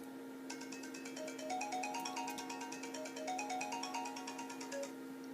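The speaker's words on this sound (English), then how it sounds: "I despise that ringtone." A phone ringtone plays a repeating electronic melody, steady and fairly loud, with a constant low hum beneath it.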